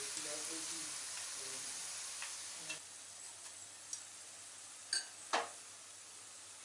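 Okra pieces frying in hot oil for a crispy bhindi fry, a steady soft sizzle throughout with a few light clinks of a utensil against the pan.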